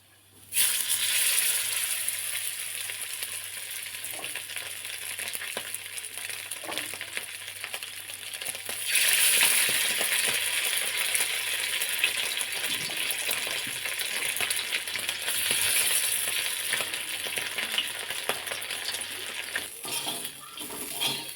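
Mackerel (bangda) fish frying in oil on a flat tawa, a continuous close sizzle with occasional brighter surges and faint clinks of a utensil, no voices.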